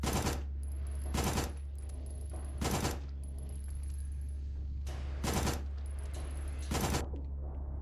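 Bursts of gunfire ring out in the survival horror video game Signalis, several loud, dense volleys separated by quieter stretches with a faint high electronic tone, no speech.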